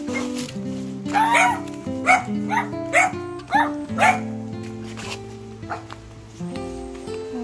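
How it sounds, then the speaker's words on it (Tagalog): Dogs barking at a home, a series of sharp yips and barks in uneven bursts, fairly close, over a steady tonal background. "kahol na naman ang mga aso"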